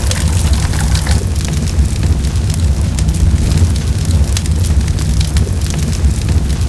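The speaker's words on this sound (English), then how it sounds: "Let's set fire to everything here." A fire is set and burns as a film sound effect in an 80s-style dark fantasy film, giving a loud, steady, dense roar with rumbling low end and scattered crackles throughout, with no talking.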